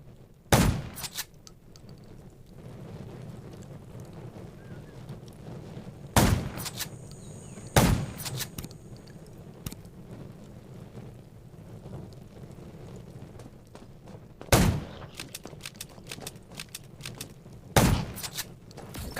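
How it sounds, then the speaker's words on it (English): Gunfire in the zombie survival game Undawn rings out as sharp, isolated shots spaced seconds apart over a low windy ambience. "Gunshot."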